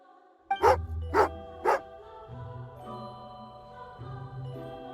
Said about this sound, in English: Oh, angry doggy.